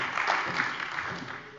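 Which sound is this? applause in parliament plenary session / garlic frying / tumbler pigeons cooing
applause in parliament plenary session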